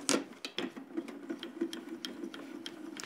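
A die-cutting machine feeds craft dies between a cutting plate and a base plate, giving a steady rhythmic run of close, quiet clicks and ticks over a low mechanical hum, with no talk.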